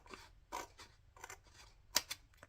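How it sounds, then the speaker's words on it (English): Scissors trim paper envelopes in a series of short, close snips, roughly seven crisp cuts spaced unevenly over a couple of seconds, with no talking. "I'm just going to use my scissors again."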